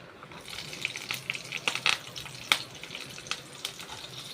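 Green chillies with fennel and cinnamon spices frying in hot oil in a pan for veg kola urundai, a steady crackling sizzle with scattered sharp pops and bubbling spits, close and fairly faint, no voices.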